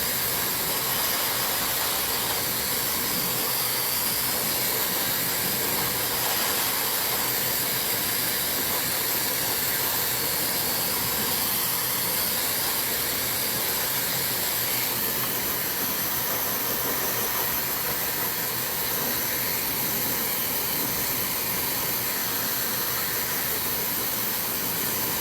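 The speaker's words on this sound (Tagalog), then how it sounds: "Pagkatapos ko siya i-blower, bagsak na yung hair ko." A hair dryer blows on hair in a constant loud, breathy hiss that holds steady without pause, close to the listener, with no talking.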